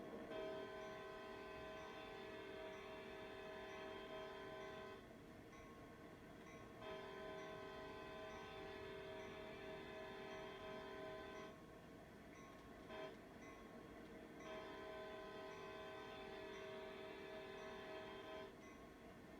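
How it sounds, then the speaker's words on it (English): An SD40 diesel locomotive horn in the Train Sim World 2 video game, sounding long sustained chord blasts at a crossing, separated by short gaps, loud and steady over a low engine rumble. "Those horn blasts lasted for quite a while."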